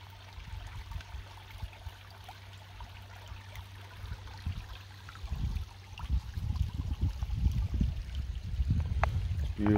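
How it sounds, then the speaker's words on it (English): A flowing forest brook gives a soft, continuous trickle and gurgle, with low rustling and footstep-like thumps growing louder in the second half, fairly near and without talk. "I came across this brook."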